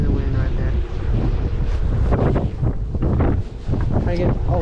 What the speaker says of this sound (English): We're waiting until the wind calms down